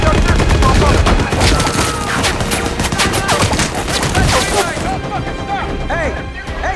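A WWII tank battle scene from the film Fury: dense, rapid gunfire with overlapping machine-gun bursts and crackling shots, loud and continuous, fading slightly toward the end, with voices shouting underneath.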